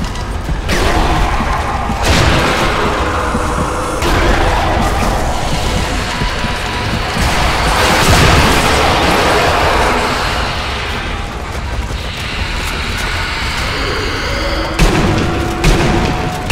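A grenade blast in the zombie shooter Sniper Elite: Nazi Zombie Army, heard as loud, heavy booms with rumbling crashes and debris, along with continuous dense game sound effects.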